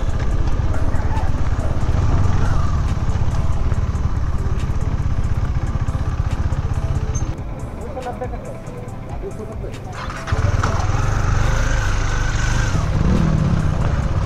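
A motorcycle rides along a road in Simdega, giving a steady close engine rumble mixed with wind roar that dips briefly mid-ride before picking up again.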